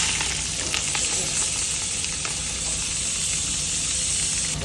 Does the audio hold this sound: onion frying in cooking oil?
yes